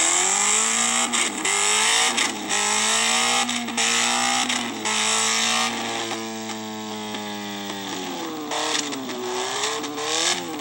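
A high-revving sport motorcycle engine accelerates hard, its pitch climbing through gear changes with brief dips, loud and close.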